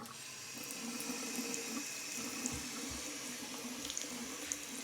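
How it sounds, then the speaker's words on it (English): Steaming hot water runs steadily from a tap in a long-abandoned Arctic house, a continuous soft splashing stream heard close and alone with a few faint clicks. "That is steaming hot water."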